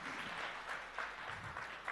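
Audience applause at a Realme U1 smartphone launch event in India, a faint, steady wash of clapping from a distant crowd lasting the whole moment.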